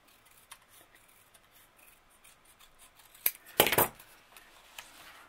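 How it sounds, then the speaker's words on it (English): Scissors snip through paper for an altered file-folder journal pocket, a single short, crisp burst of cutting close by, preceded by a faint click, with quiet handling noise around it. "Let me cut this out"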